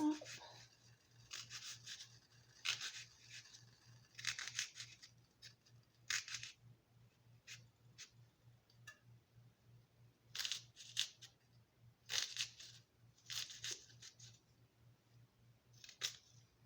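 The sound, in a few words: cutting something up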